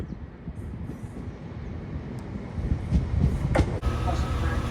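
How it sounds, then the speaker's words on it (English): A passenger train pulls into a station in Northern Ireland, a steady rumbling roar of wheels and engine building louder as it nears, with a brief horn-like tone near the end and faint voices under it. "Wow, look folks, here comes our train."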